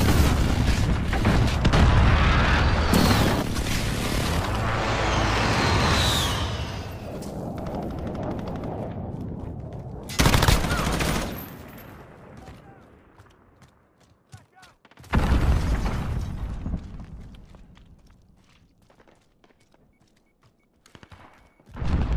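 Heavy airstrike explosions in Call of Duty Modern Warfare, a series of loud booming blasts with rumbling debris and crackling gunfire, bursting in at intervals and fading between hits.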